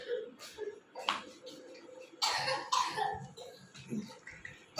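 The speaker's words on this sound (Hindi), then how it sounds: "खांसी हो रही है ना आपको?" A child at home coughs several times in short, sharp bursts close by, with a throat-clear among them and a woman's soft speech in between.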